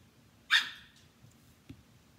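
A single sharp bark from an old dog, loud and brief, followed by faint room noise and a soft thump; no one speaks.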